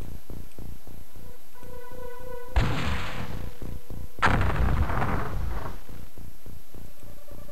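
Two heavy blaster bomb explosions boom in X-Com, one after another about a second and a half apart, loud and close, each rolling off into rumble over a steady rhythmic ticking from the game.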